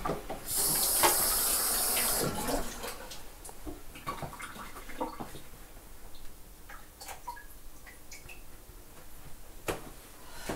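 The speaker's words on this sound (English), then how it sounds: "I'm just going to wash my hands." A kitchen tap runs in a brief, steady rush for hand washing, then cuts off, leaving faint drips, clicks and quiet handling sounds, with no talk.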